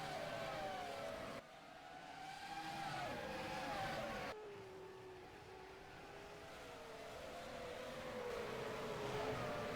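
Touring race cars at Spa-Francorchamps, engines droning and shifting pitch as they pass, a continuous layered roar at moderate distance with changing gears, no talk over it.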